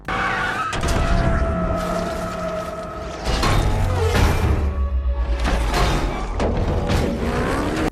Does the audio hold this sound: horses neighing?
no